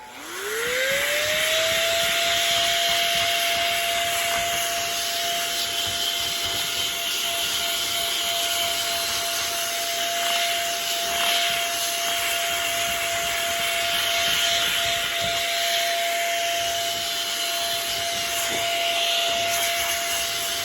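A compressed air duster sprays continuously for about twenty seconds, cleaning dust out of a device, as a steady loud hiss with a rising whine at the start.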